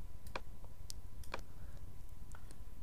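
A computer mouse on a Mac gives a few soft, sparse clicks while dragging windows into place. The clicks are faint and scattered over a steady low background hiss.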